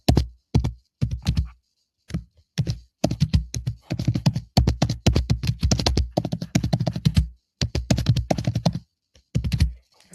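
Bursts of typing on a computer keyboard, crisp close keystrokes in quick clusters separated by short pauses, with no voice.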